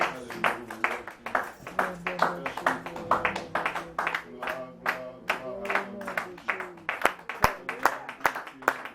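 Church congregation clapping in a steady rhythmic beat while voices sing and call out praise over the claps, with some louder sharp claps near the end.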